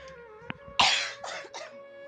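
A person gives one faint cough, then a louder burst of several harsh, breathy coughs in quick succession, close and clear, against a quiet background.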